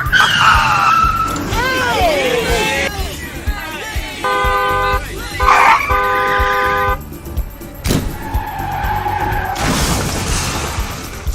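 A car driven recklessly skids with squealing tyres and sounds its horn in several sustained blasts, with engine noise running throughout and voices talking over it.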